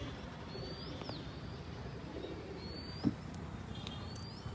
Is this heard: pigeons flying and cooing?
yes